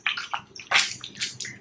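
Water splashing and sloshing as hands are rinsed after applying a face scrub, in a few short bright bursts close by, with no talking.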